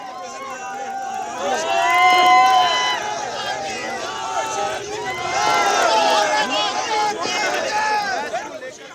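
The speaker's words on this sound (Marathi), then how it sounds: "कोल्हापूरमध्ये क्रिकेट प्रेमींनी जल्लोष साजरा केला" Cricket fans in Kolhapur celebrate India's win over Pakistan, a dense crowd of many shouting, cheering voices that continues throughout and swells loudest around the second and sixth seconds.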